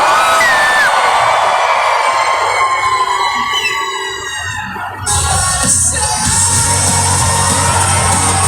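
Panel audience at a Comic Con convention in Ecuador shouting and cheering, a loud, dense crowd roar with whoops that dips briefly before surging again and holding steady.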